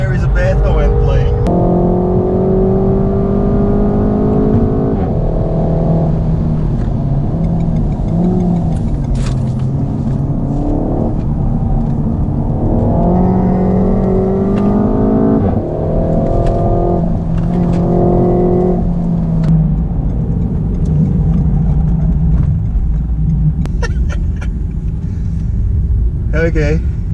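A Renault Megane R.S. engine revs on a track, loud and close, rising and falling through gear changes with a sustained rumbling drone, and voices are heard talking over parts of it.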